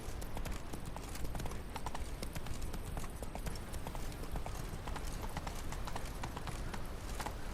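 Roach, the horse in The Witcher 3, gallops with a steady, rapid clip-clop of hooves that runs throughout at low volume, with no voices heard.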